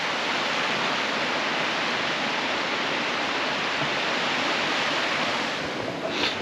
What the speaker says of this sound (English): There's the brook just cutting through it.